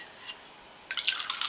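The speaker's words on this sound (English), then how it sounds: "Let's go ahead and pour some of this out." Cacti agave spiked seltzer, a pineapple-scented clear drink, poured from a can into a plastic glass: near silence at first, then a bright, close fizzing splash of liquid for the last half second.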